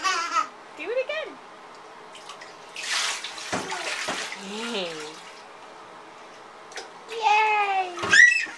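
Water splashes in a bathtub as a small child bathes, with short sloshing bursts between stretches of quiet while a child babbles and an adult speaks nearby.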